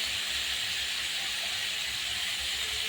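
Bitter gourd added to potatoes frying in a pan, giving a steady, close, broadband sizzle and hiss that holds throughout with no voices.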